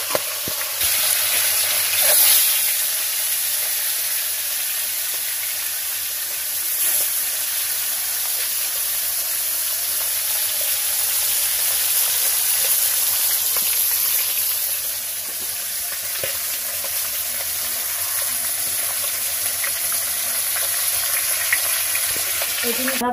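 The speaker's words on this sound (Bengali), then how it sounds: "এবার মাছটা ভালো করে ছাকা তেলে ভেজে নেব।" Rohu fish pieces deep-frying in hot oil in a village kitchen give a steady, loud, continuous sizzle with crackling bursts, alone without talk throughout.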